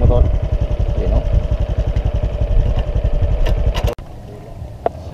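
A motorcycle engine labors over a rough, potholed road, thumping in a fast steady rhythm close by. The engine cuts off abruptly near the end, leaving quiet with a single faint click.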